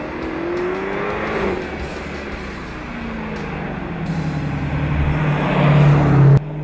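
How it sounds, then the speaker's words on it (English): A 2015 Dodge Challenger SRT Hellcat with a supercharged engine accelerates hard, its exhaust building into a loud rising roar that swells toward the end before cutting off abruptly, with no talking. "The exhaust was surprisingly quiet in town unless you put your foot down to wake the cat up."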